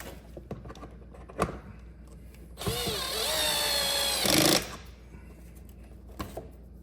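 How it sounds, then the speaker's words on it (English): Screws being driven back into the engine air filter housing of a 2019 Dodge Journey: a couple of short clicks, then a loud two-second whirring buzz of a power driver, then a few quieter taps. "once you have your screws aligned, just go ahead and screw them back in"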